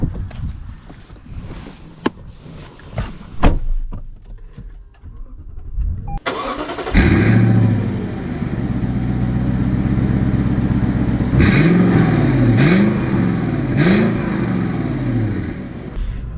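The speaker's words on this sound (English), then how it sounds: "So setting off in my new to me Land Cruiser Heritage Edition." Toyota Land Cruiser Heritage Edition, a 200 series, starting up after a few clicks and door sounds: the engine cranks and catches, then settles into a steady close rumble as it revs and pulls away.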